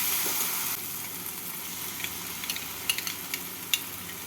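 Cashew paste goes into a spice masala that has been fried until the oil separates, for a kaju katla fish curry, and it makes a steady close sizzle broken by a few sharp pops and crackles near the end.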